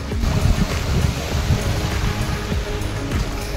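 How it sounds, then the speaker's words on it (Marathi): A rain-fed stream rushes down a misty hillside on the trek to Rajmachi Fort, giving a close, continuous churning roar of flowing water with no speech. "असे जे पावसाने धबधबे तयार होतात ते असेच हे जे पाणी आहे हे वाहत आहे"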